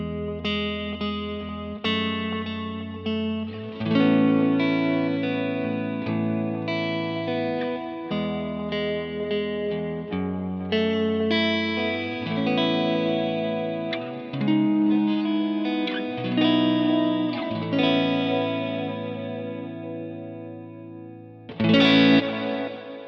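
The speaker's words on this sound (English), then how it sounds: "Okay, it sounds good, but it's only in mono. Let's hear stereo. Same settings." Electric guitar played through a Kemper profiler with a stereo widener effect, distorted chords and notes ringing wide with chorus-like shimmer, steady and loud throughout with a brief strum near the end.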